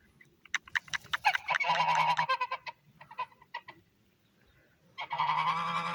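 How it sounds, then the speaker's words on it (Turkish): Several geese honk loudly and close by, bursts of harsh calls and cackles with short pauses between, then a fresh loud volley at the end. "Kazlar."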